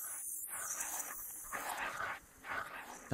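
A dog in a frenzy near an approaching train, barking, yipping and whimpering in repeated excited bursts, fairly close, with a high-pitched screech running across the top throughout.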